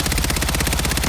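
Full-auto rifle fire without a stock mod on a video game firing range: a loud, unbroken stream of rapid, evenly spaced shots with a steady rhythm for about a second, no voices.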